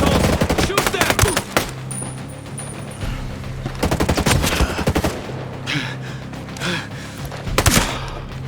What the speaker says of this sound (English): And the people shooting at me.